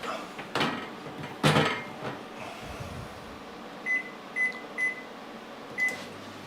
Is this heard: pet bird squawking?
no